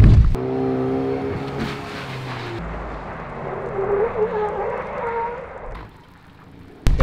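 A car performs a J-turn on a slippery surface. The engine revs and the tyres spin and hiss, rising to a broad rushing roar before it cuts off.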